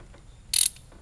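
Ratchet clicking briefly on an 8 mm bolt during a fuel filter change on a Ford F350 6.7L, a single loud burst of rapid metallic clicks in an otherwise quiet garage.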